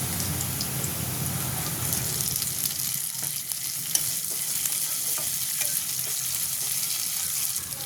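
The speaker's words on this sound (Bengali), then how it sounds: "লবণ দিয়ে ভালো করে নেড়ে চেড়ে" Jute leaf frying in a pan with salt, stirred steadily: a continuous close hiss of sizzling oil with soft scraping of the spatula running throughout, no voices.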